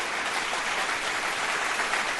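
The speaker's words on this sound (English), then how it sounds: "And applause." Studio audience claps for a comedy show, a brief steady burst of applause that is moderately faint and sustained without voices over it.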